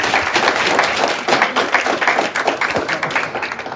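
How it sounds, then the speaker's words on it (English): Audience applause at an FCC STEM presentation event, a steady dense wash of clapping from a room full of people, loud and continuous throughout. "we have been giving everyone else a round of applause"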